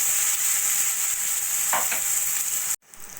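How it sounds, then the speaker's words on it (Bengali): Sliced onion frying in hot oil with nigella seeds and dried red chili, a loud, steady close sizzle with a brief stir partway through, cut off abruptly near the end. "দুটো মিডিয়াম সাইজের পেঁয়াজ পাতা করে কেটে নেওয়া পেঁয়াজটা একটু হালকা সোনালি করে ভেজে নেব"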